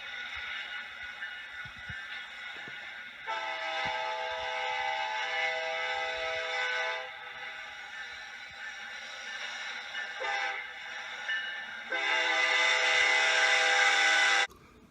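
A train passes with a long, loud horn blasting in several drawn-out pulses over a low rumble of rolling wheels, with no talking.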